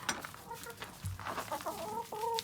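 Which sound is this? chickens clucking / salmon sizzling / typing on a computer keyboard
chickens clucking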